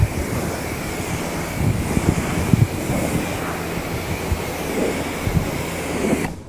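A steady broadband rush of rinse water sprays soap foam off a car, continuous and fairly loud throughout, with no talking over it.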